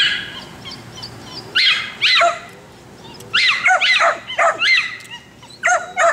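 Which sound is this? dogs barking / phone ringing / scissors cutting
dogs barking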